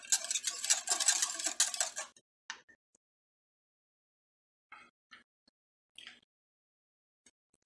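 A chocolate tablet is stirred in a pot to dissolve it, a dense run of scraping and clinking for about two seconds, then silence broken by a few sparse, faint taps.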